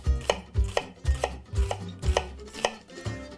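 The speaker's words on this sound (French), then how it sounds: "Pour ciseler les oignons, donc je prends le couteau, j'incise pas jusqu'au bout de l'oignon pour le garder vraiment entier." A knife chops through a red onion on a board in about seven evenly spaced, close, solid thuds with no speech.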